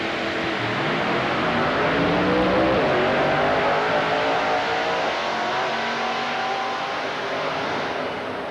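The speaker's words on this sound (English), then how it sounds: "Their nitrous oxide injected the C car qualifying earlier at 684." A nitrous oxide injected Pro Mod drag car races at a 1995 IHRA quarter-mile event in Bristol, Tennessee. A loud, sustained engine roar climbs in pitch as it accelerates, then slowly fades toward the end, with no voices present.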